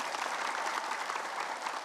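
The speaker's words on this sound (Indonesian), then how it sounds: "Udah, tepuk tangan." A studio audience at a religious talk show claps together in a steady, dense wash of applause, moderately distant and fairly quiet.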